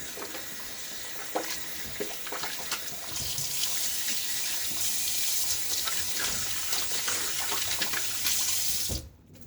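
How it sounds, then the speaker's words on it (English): A bathroom faucet runs steadily during a wet shave, giving a continuous close hiss of water splashing into the sink with small clatters, then it cuts off abruptly at the end. "I haven't left a clean digit to operate my faucet."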